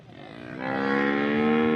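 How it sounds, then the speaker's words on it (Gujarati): A pregnant cow at a village cattle sale in Vichhiya gives a single loud, close moo lasting under two seconds, its voice swelling in strength partway through and holding to the end. "આજે ગાભણ ગાય આરિયા અને પેલિયત બંને ગાયો વેચાઈ ગઈ છે."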